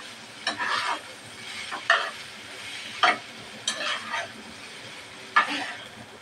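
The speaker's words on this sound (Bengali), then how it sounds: "নুডলসটা মশলার সাথে ভালোভাবে মিশিয়ে নেব" Noodles being stirred together with spices in a pan, with a handful of separate scraping strokes spread through the stretch over a faint background.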